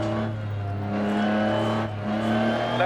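A Lancia Stratos rally car in Dirt Rally on a Monaco stage drones loudly and steadily, its engine note holding high revs with slight pitch shifts and brief dips during shifts.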